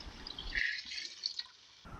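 Water pours into a pot of chicken cooking for kabsa, a brief splashing and trickling fill that cuts off abruptly, faint and without talk.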